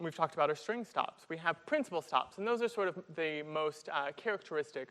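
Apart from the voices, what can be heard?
No everyday noises stand out.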